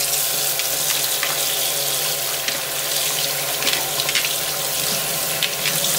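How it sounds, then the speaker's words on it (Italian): Water from salted cucumber draining off in a steady, loud rush close by, a continuous splashing hiss with no talk. "Passata mezz'ora, vado a scolare il cetriolo. Guardate quanta acqua che ha buttato fuori."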